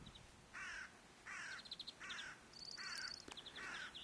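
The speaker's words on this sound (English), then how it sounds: "Is there a crow?" A crow caws outdoors on a snowy hillside, five harsh evenly spaced calls at moderate distance with faint other bird chirps between them.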